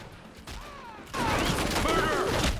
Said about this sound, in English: A shootout during a car wash.